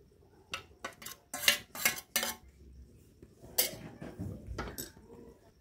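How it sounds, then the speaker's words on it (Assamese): A metal spoon scrapes and clinks against a bowl while green chili, onion and cumin paste are mixed, several bursts of rapid clattering separated by short pauses, close and alone. "মই এতিয়া গোটেইখিনি মিক্স কৰি লম"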